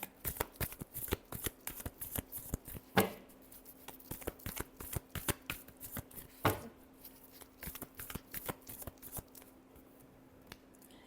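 Tarot cards being shuffled by hand in a steady run of crisp riffling flicks and soft slaps, close and fairly quiet, with two sharper bridging bursts along the way and no voices.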